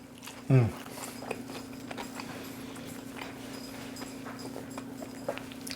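One loud crunchy bite of a ketchup-dipped chicken nugget near the start, then quiet chewing against a steady low hum.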